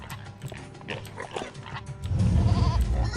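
Goats penned with cows in the video game Might and Magic 9 bleat in short wavering calls over a busy background rumble that grows louder toward the end.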